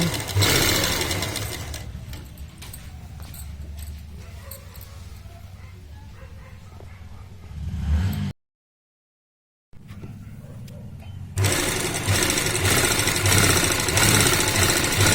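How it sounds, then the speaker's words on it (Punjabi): A sewing machine runs fast and steady while stitching pintucks into salwar fabric, loud and close. It stops for a brief silent gap, then starts again, with faint soft sounds under the first run. "ਆਪਾਂ ਨੇ ਇਦਾਂ ਸਟਿਚ ਲਗਾ ਲੈਣੀ ਆ ਕੱਪੜੇ ਨੂੰ ਦੱਬਦੇ ਹੋਏ ਸਟਿਚ ਲਾਉਣੀ ਆ"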